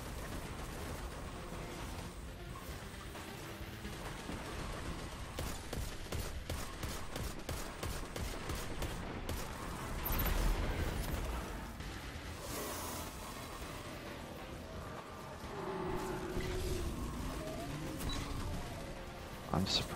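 Gunfire in the video game Destiny rattles in rapid bursts around a player character, with crackling shots and impacts mixed under a constant game soundscape, loudest near the middle.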